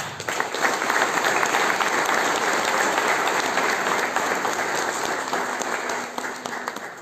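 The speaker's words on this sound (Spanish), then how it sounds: "Para él pido un fuerte aplauso." An audience at a book presentation applauds a school benefactor, a sustained, even wash of clapping from a sizeable crowd lasting several seconds and thinning slightly at the end.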